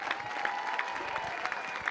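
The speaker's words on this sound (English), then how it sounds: "Let's give God a hand clap of praise." A church congregation at a Sunday sermon claps hands in praise, a steady dense wash of applause from a crowd filling the room, with no one speaking over it.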